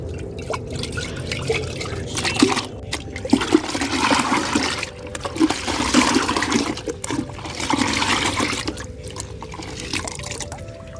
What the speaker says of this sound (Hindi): जैसा कि आप देख रहे हैं हमने इसमें पानी ले लिया है। इसे अच्छी तरह से डाल दीजिए घोल के।